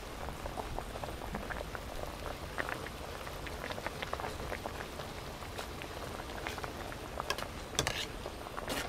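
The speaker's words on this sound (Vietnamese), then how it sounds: "Rồi bây giờ mình sẽ để cho nó sôi lên." A pot of braised climbing perch with bottle gourd boils steadily, a soft bed of quiet bubbling and popping with occasional small spits, close and alone.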